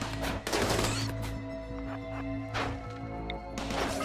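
Defensive turrets in RimWorld open fire in short rapid bursts, with a crashing volley at the start and another near the end around a quieter humming stretch.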